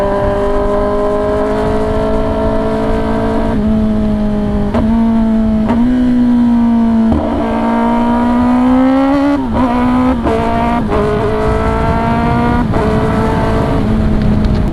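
A Kawasaki ZX10R sport motorcycle engine revving hard and loud up close, rising through the rpm in repeated pulls with sharp shifts and brief drops between surges, steady and dominant throughout.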